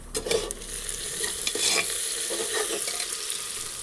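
Onions frying for khichdi, a bright continuous sizzle close up with scraping and stirring bursts near the start, steady and loud throughout without talk.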